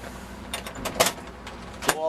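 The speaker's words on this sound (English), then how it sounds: "Door latch opens and closes." A truck door latch is worked open and shut during a pretrip inspection, giving a series of short mechanical clicks and clunks, with a louder snap near the end, while someone talks over them.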